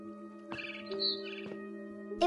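A barn swallow chirps outside a window near its nest, a few faint, quick twittering calls over a quiet, steady hum.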